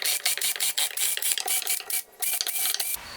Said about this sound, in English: I've chucked a dowel into my drill, and what I'm going to do is I'm going to burnish every single hole